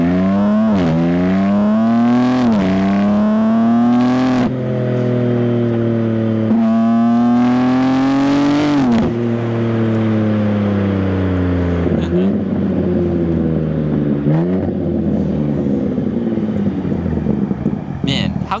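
Modified BMW G80 M3 with an MST intake and single mid pipe driving, engine droning loud and steady inside the cabin, rising through revs and dropping at several gear changes.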